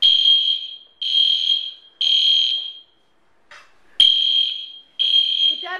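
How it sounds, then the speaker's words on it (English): Hotel smoke alarm set off by cooking smoke from an electric skillet, sounding a loud, shrill electronic tone in repeated one-second bursts, with a voice briefly heard during a gap. "The fire alarm's going, but it's just smoke because Daddy's cooking us a good dinner."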